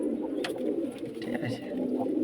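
Male pigeon chick gives soft cooing calls close by, a few brief low murmurs over a constant background hum, with a person talking.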